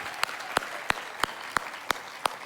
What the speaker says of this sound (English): Can we please give a round of applause for all the volunteers who made this possible?